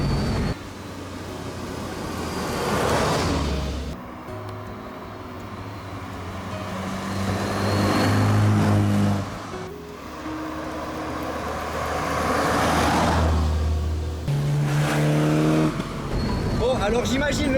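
A BMW 2002 Tii Touring with 130 horsepower revs hard while driving, its engine rising and falling in sustained loud pulls through the gears, heard from inside the car with occupants talking over it.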